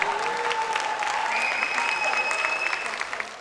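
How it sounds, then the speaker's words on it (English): Audience applause at a fireside chat with Jeff Bezos: moderate, even clapping from a crowd for a few seconds, with a sustained tone and some voice sounding over it. "And a bigger round of applause for most of the people who are employed by Jeff."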